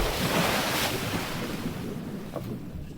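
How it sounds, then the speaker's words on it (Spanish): Roaring sea waves and gusting wind form a dense, continuous wash of noise, loud and close, with surges swelling and easing over about three seconds and no voices. "el rugido del mar, el gemir del viento, el crujir de la madera"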